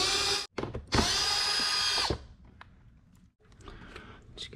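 Power tool spinning out a 10 mm bolt on a 2014-19 Toyota Highlander during a rear fog lamp install, two loud, close bursts of whirring, a short one and then a longer one, followed by quieter handling noises.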